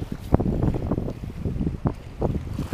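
Strong wind buffets the microphone outdoors beside the water during shore fishing, a steady rumbling roar with gusty thumps throughout.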